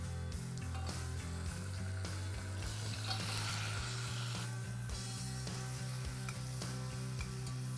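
Tomatoes sizzle and fry steadily in a pan with garlic and ginger for an Indian lentil and quinoa burger, with a continuous close hiss and occasional stirring, under a low steady hum and no talk.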